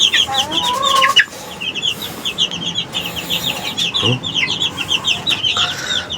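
A brood of chicks around three weeks to one month old clucks and peeps steadily nearby, producing a busy run of high, overlapping chirps with a brief flutter of wings partway through.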